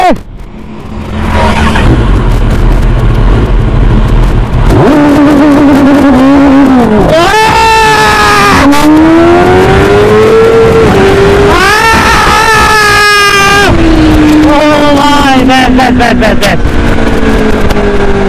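A Kawasaki ZX10R sport bike pulls away under launch control, its engine screaming up through steep rising revs, dropping briefly at each gear change and climbing again, loud and close, with excited voices talking over it.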